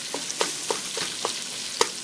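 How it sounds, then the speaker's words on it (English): Sausage breaking apart and frying in a small pot, a steady crackling sizzle broken by several sharp scraping stirs at an even pace, close and fairly loud, with no voices. "So now it's frying up."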